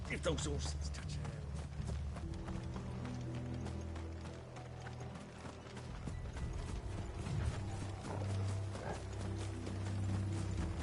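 Steady clopping of horse hooves moving at a quick pace in Final Fantasy XVI, layered over a low rumbling background and mechanical clatter, continuous throughout.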